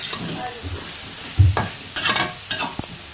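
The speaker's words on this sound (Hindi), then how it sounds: "सब्ज़ धनिया डालने के बाद मिक्स करेंगे।" Radish paratha filling is stirred with fresh coriander in a pan, giving a few soft scraping and mixing strokes with light clinks, close and fairly quiet, irregular in rhythm.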